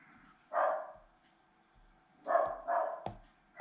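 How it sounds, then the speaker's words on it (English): A dog barks in guard mode from a short distance, a few separate barks spread across the moment with pauses between them, fairly loud in an otherwise quiet setting. "You can hear my dog doing her guard dogging bit."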